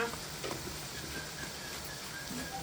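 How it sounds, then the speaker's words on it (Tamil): Fish curry masala made with lake fish being stirred in a pan, a faint steady sizzle with soft, indistinct scraping throughout. "கலக்குங்க கலக்குங்க சீக்கிரம் கலக்குங்க"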